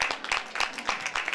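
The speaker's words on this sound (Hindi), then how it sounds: "सो जोरदार तालियां हम बजाएंगे एक बार फिर से।" Applause from an audience at a Christmas program, with dense, steady clapping from many hands throughout a short burst heard close to the microphone.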